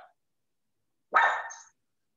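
A single dog bark, one short loud burst after a faint earlier sound, with no talk over it.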